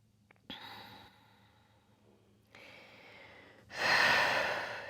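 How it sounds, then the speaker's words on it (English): During a yoga forward fold, a person breathes slowly and deeply, with a soft inhale and then a longer, louder exhaling rush. The breaths are close and alone, with quiet pauses between them. "You'll take an inhale and then exhale to fold forward any amount here"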